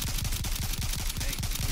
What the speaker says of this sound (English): There's someone on the other team shooting at us.